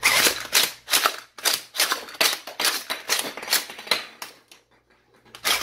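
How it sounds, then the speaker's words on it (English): Spring Thunder blaster cycled and fired four shells as fast as possible: a quick run of sharp mechanical clacks and snaps in a steady, rapid rhythm, close and alone, ending in a short pause. "But put in 4 shells, and I'm just gonna cycle through them as fast as I can, so that you can see."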